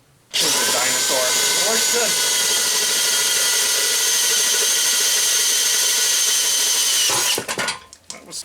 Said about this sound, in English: So, up next is a bunch of drilling.